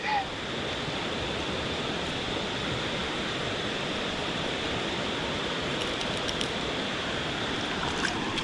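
Steady outdoor rain falling beside a mountain stream, a dense continuous hiss of drops and rushing water at constant level with no distinct events.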